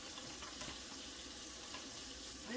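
Cold water runs steadily from a kitchen tap into a sink to rapidly defrost frozen food for a cowboy casserole, a continuous close hiss and splash throughout with no talk.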